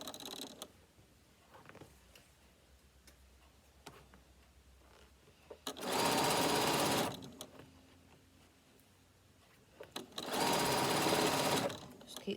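Two loud bursts of rapid sewing machine stitching, a few seconds apart, as bias binding is sewn onto a fabric bag, with someone talking quietly in the quieter stretches between them.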